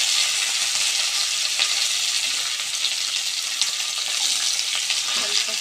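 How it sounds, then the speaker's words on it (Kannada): Onion and green chillies frying in oil, a dense steady sizzle and crackle throughout, loud and close with faint stirring. "ಸ್ವಲ್ಪ ಫ್ರೈ ಮಾಡ್ಕೊಳ್ಬೇಕು"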